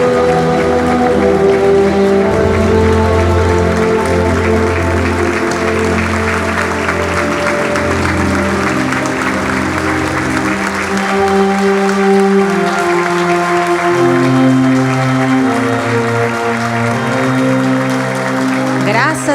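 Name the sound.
applause for the humanity above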